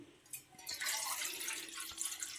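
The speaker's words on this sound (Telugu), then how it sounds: "ఇప్పుడు మనం దీని నిండా నీళ్ళు పోసుకుందాం" Water pours into a bowl to measure it for a flour dough, a quiet splashing trickle lasting about two seconds after a couple of faint drips.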